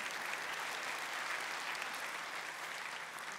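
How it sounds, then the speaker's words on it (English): A church audience claps steadily for about three and a half seconds, a dense, even patter of many hands at moderate level with no voices over it. "you can clap for that"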